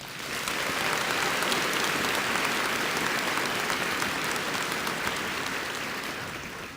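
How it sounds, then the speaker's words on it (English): A large commencement crowd gives the graduating class of 2019 a full round of applause, a dense, steady roar of clapping that holds for several seconds before tapering slightly. "Please, let's give them a big round of applause."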